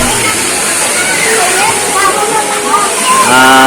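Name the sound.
rushing river water at Pansol River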